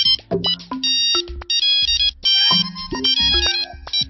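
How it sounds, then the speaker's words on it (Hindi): A phone ringtone plays a bright, repeating electronic melody, loud and close, with no talking. "अरे भाई, ये किसका फोन बज रहा है?"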